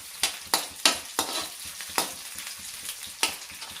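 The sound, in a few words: onions and garlic frying in a pan for dried fish charchari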